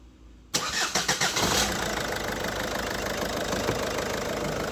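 A Peugeot 1.6 HDi 16v diesel car engine cranks with several quick churning turns, then catches and settles into a loud, steady idle with a rough knocking clatter, close by and alone.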